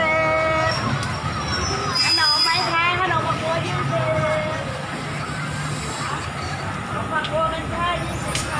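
A passenger train (ordinary service 255, Thonburi to Lang Suan) pulls into Hua Hin station in Thailand, a steady rumble and rail noise under busy platform chatter, with voices and babble throughout.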